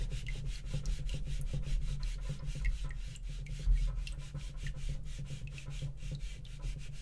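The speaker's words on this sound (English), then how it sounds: "Now we'll try the fine rust eraser." A fine rust eraser rubs back and forth on a Japanese whetstone in quick, regular strokes, a close, scratchy scrubbing sound that continues for several seconds without talk.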